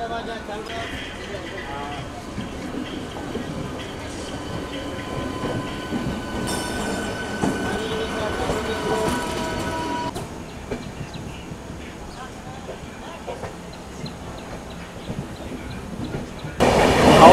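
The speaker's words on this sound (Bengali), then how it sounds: "আর আমাদের ট্রেন এইমাত্র ছাড়লো হাওড়া থেকে।" Howrah–Titlagarh Ispat Express rolling out of Howrah, heard from inside the coach with steady rumble and rail noise, some faint squealing tones, and a louder burst at the very end; background voices are faintly present.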